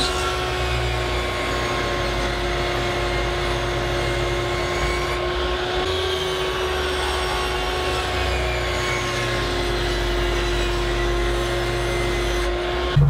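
A table saw rips 2.5-inch-wide strips of wood for a French cleat coat rack, giving a loud, steady motor drone with a constant tonal whine that runs unbroken for the whole stretch, with no talking.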